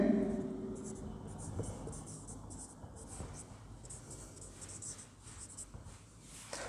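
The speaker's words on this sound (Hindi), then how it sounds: "तो रासायनिक समीकरण लिख लेते हैं।" Pen on paper while a chemical equation is written, a faint scratchy writing sound under a steady background hum and murmur, no clear speech.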